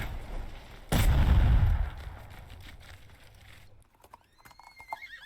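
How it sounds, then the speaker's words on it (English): Horse hooves clop with a soft neigh in a tactical leadership role-playing video game; a sharp loud burst comes first, then quieter hoof sounds and a faint whinny near the end. "A clop of hoofs and soft neigh brings your head around."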